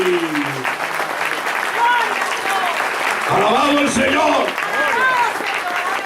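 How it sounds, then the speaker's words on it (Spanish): Church congregation applauding loudly after a call for applause at a resurrection sermon, a steady wash of clapping blended with voices and cheering, with someone speaking over it. "Dale un aplauso fuerte."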